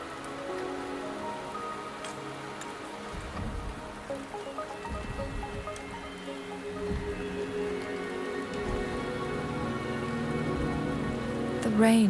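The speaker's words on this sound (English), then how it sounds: "The rain is subsiding, and the sky will soon clear." Rain in the video game Wuthering Waves pattering steadily on surfaces, a soft continuous hiss of drops with occasional heavier splashes, fairly quiet and growing slightly louder toward the end.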